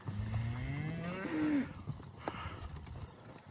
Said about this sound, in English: There's a lot of very close cows and heifers.